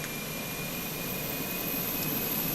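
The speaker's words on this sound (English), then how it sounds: "it's the auxiliary power unit. It's basically an onboard jet engine that sits right at the back." Airbus A320 auxiliary power unit in Microsoft Flight Simulator 2020 (Fenix), a steady high whining jet hiss with a thin sustained tone, constant and even throughout, no voices.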